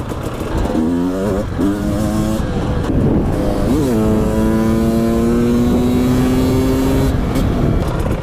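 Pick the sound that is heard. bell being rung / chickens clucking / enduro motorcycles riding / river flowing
enduro motorcycles riding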